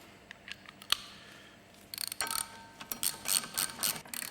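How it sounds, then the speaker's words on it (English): A bolt is screwed in by hand to push a Ford Mondeo Mk5 rear brake disc off its hub. Quiet metallic clicks come first, then a run of bright ratcheting bursts. "So I can screw this bolt in."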